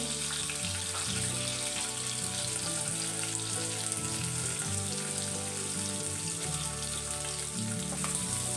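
Green chilies and curry leaves frying in a little oil in a pan over low heat, a steady close crackling sizzle with scattered pops and no voices.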